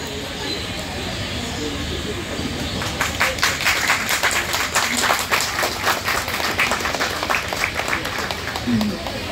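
A large crowd at a public gathering seeking justice breaks into loud clapping after a few seconds of murmuring background noise, and the dense applause continues to the end.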